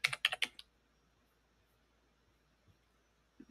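A keyboard typing effect in CapCut gives a quick burst of four or five crisp, close key clicks at the start, then near silence with one faint tap at the end.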